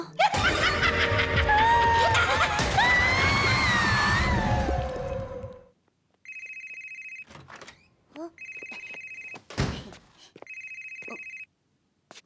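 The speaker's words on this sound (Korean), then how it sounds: "아빠 전화 왔어요." A cartoon telephone rings in short repeated electronic bursts, three clear rings with brief gaps, heard after a loud burst of music and laughter-like noise, with a few thumps and clatters between the rings in an animated ghost series.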